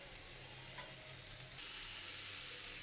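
Banana flower curry with lentil fritters sizzling in a pan, a continuous crackling fry that steps up louder partway through, close and steady with no talk.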